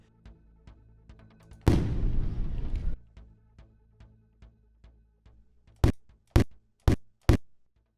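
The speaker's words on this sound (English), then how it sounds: "I've got the perfect fireworks hit." A single big boom with a roaring, crackling tail that fades over about a second, followed by four sharp, evenly spaced thuds.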